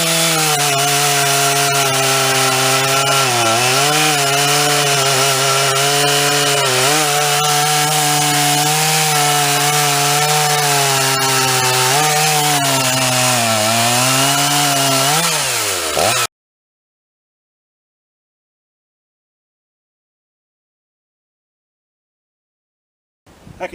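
A Stihl 460 chainsaw fitted with Farmertec parts cuts wood, its engine roaring loud and steady for about sixteen seconds with slight changes in pitch as it bogs in the cut, then cuts off abruptly into silence.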